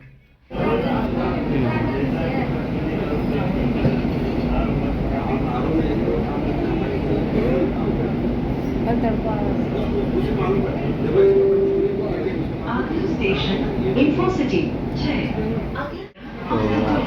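The steady rumble and hum of a Gandhinagar metro train in motion fills the car, with muffled passenger chatter underneath and a brief clunk near the end.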